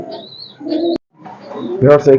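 Soft, low coos from female racing pigeons, two short bursts with a brief pause between, close by.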